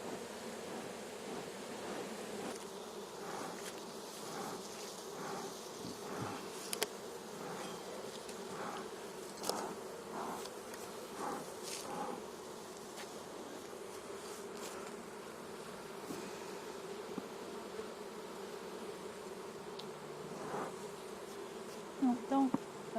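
An insect, a bee, wasp or housefly, buzzes steadily around food outdoors, its drone rising and fading as it circles close by, with a few sharp nearby knocks and no talk.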